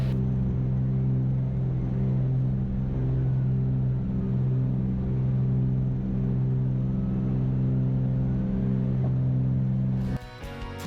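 A small airplane's piston engine runs at full throttle through the takeoff roll, a steady loud droning roar with strong low harmonics that holds level for about ten seconds before shifting abruptly near the end.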